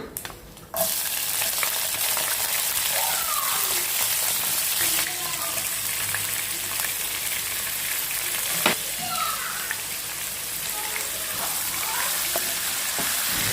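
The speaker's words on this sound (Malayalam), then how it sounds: "ലോ ഫ്ലെയിമിൽ വെച്ച് തന്നെ ഇതൊക്കെ ഒന്ന് ഫ്രൈ ആക്കി എടുക്കാം" Ginger, green chili and garlic, drained from vinegar, sizzle in oil on a low flame for a date pickle: a steady, close frying hiss throughout, with light stirring clicks.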